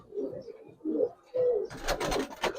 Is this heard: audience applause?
no